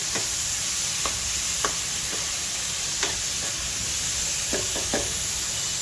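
Ridge gourd and tomato, sprinkled with salt, fry in a pan with a steady sizzling hiss, while a spoon scrapes and knocks against the pan in scattered sharp taps. No one speaks.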